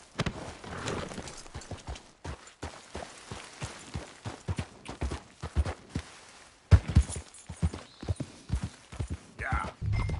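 Horse hooves clip-clopping in Red Dead Redemption 2, a close run of uneven hoofbeats with brief pauses, plus a faint whinny and some game sounds near the end.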